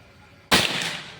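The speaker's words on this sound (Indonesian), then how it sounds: "Oke, tembakan pertama yang HS." A single sharp shot from a Predator Pajero Gen 6 air gun cracks out close and loud, followed by a brief fading tail.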